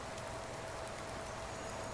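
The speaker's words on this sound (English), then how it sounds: "I've got that rain in the background." Faint steady rain falling in the background, a soft continuous patter with a crackling texture like a fire.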